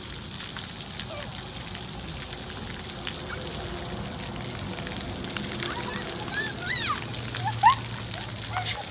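Water splashes and patters continuously in a small public fountain on a town square on a summer day, children playing in it, with faint voices and scattered bright splashes throughout.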